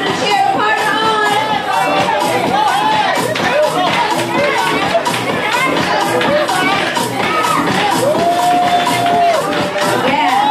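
Partners cheering each other on during a group fitness class, a lively mix of overlapping shouts, encouraging calls and chatter with shuffling footsteps, loud and busy throughout.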